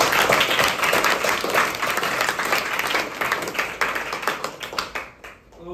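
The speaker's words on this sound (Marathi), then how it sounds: "त्या सरांसाठी आपल्याला टाळ्या वाजवायच्या का नाही?" Schoolchildren in a primary school classroom break into sustained, dense applause, many hands clapping loudly together for several seconds before it thins out and fades near the end.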